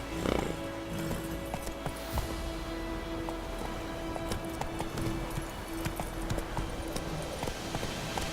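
Horse hooves clip-clop in a steady trotting rhythm while riding in The Witcher 3, with rain pattering on the ground throughout.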